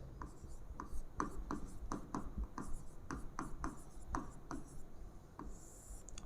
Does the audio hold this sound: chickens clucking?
no